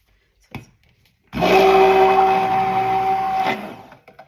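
Titanium dioxide being mixed into soap batter with an electric mixer: a short tap, then a steady, close whirring drone lasting about two seconds before it cuts off.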